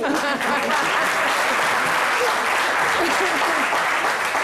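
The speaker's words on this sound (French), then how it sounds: "Applaudissements pour Beckham" Studio audience on a French midday TV show applauding loudly and steadily, a dense wash of clapping with a few voices mixed in throughout.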